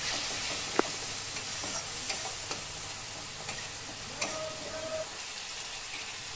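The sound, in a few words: spice paste being sautéed and stirred in pan for fish curry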